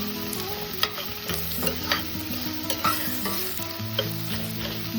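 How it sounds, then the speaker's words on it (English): Chopped onions and a few garlic pieces sizzle steadily in a pan over a medium flame while being stirred, with repeated clear scraping strokes from the utensil against the pan throughout, fairly close and at moderate loudness. "We're gonna cook these onions until it turns translucent."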